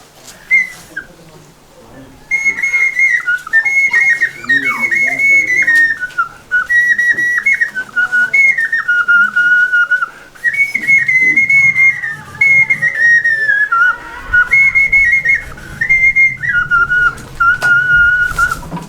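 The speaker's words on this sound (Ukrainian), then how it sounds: "інструмент називається свистулька або свистунець" A clay whistle plays a warbling, trilling melody in bright, steady phrases with short pauses, close and loud, with faint background voices.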